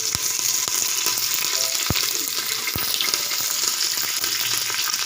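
Curry leaves frying in hot oil with fennel seeds, a dense close crackling sizzle with occasional sharp pops and clicks and no talking.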